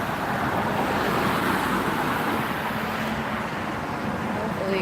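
Road traffic hums steadily while someone walks to school, with cars passing close by and a continuous roar throughout, under no clear talk.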